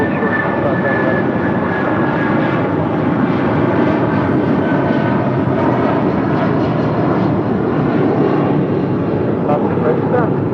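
An Alaska airliner taxiing at an airport, its engines making a loud, steady roar that holds unbroken for the whole stretch.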